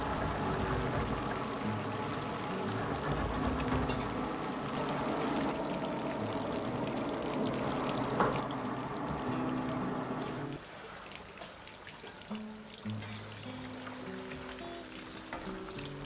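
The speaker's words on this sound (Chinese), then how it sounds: "全部放完后，再下入提前炸过的一起炸制。" Fish pieces deep-fry in hot oil in a wok for Sichuan-style fish, a loud dense sizzle that softens partway through.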